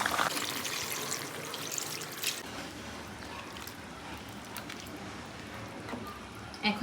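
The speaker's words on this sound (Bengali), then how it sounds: "এখন পানি দিয়ে দিব" Water pours steadily into a pot of duck curry with potatoes, a close, continuous rushing splash that eases into a softer bubbling trickle.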